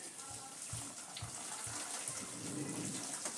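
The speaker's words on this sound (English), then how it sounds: "we're going to pour it through this sieve, nice and gently" Liquid is poured gently through a sieve onto the grain bed of an all-grain home brew, giving a steady soft splashing and trickling close by, with a voice talking over it.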